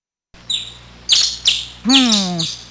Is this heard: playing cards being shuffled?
no